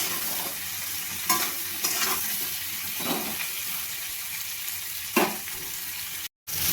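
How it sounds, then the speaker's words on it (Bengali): Vegetables stir-fried with tempering spices for a prawn and Malabar spinach dish, giving a continuous near sizzle with several short scraping strokes of a spatula in the pan. "ফোড়নের সঙ্গে ভেজে নেব"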